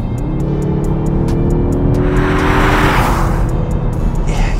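A 2021 Mazda 3 Turbo AWD hatchback's engine revs in sport mode, a loud, steady drone with rising pitch, heard from inside the car.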